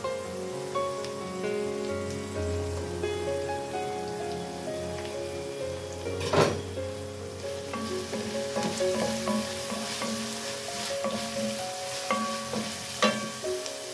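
Garlic fries in a pan while fava beans cook, giving a continuous close sizzle with scattered crackles and pops and a few sharper clatters, with no voices.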